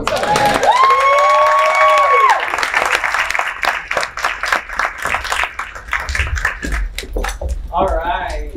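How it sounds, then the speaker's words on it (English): Audience at a networking masterclass applauding and cheering for panelists on stage, with a loud whoop and shouts over the opening, then sustained clapping that tapers off, with a voice at the end. "Let's do another round of applause."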